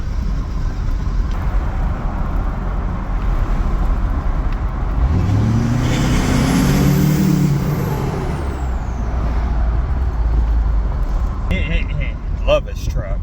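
A truck with a stock downpipe exhaust drives steadily, its engine and road noise loud and continuous, swelling in the middle as it passes through a tunnel.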